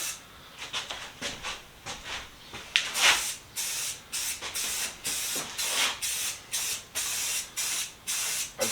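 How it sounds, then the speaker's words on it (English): Primer sprays in a quick coat onto an old heater being sealed against rust, a series of repeated short hissing bursts from a spray can, close and fairly loud, with brief pauses between passes. "we're going to go over it with some primer, get this thing sealed up, stop it from rusting"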